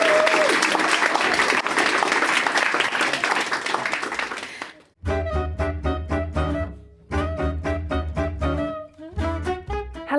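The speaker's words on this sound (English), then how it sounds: "Let's have a huge round of applause for Yola Yolas from Cambridge University." An audience claps loudly and continuously for about five seconds, then the applause cuts off and an upbeat music sting begins.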